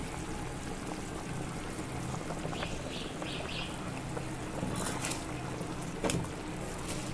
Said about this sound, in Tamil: நம்ம கழுவி வச்சுருக்கிற அரிசியை நம்ம சேர்த்துக்க போகிறோம்